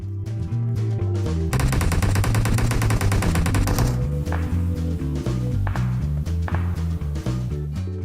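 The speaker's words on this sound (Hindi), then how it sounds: "तभी रोजोक से फायरिंग आनी शुरू हो गई।" Gunfire in a battle royale video game: a rapid automatic burst lasting about two seconds, followed by scattered single shots and thumps, all over a steady low musical or ambient bed with no speech.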